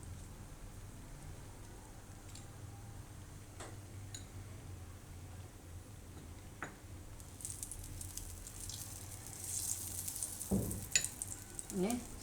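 A Kashmiri paratha frying in ghee on a low gas flame, giving a soft continuous sizzle with occasional light ticks and taps, then louder crackling and a scrape near the end.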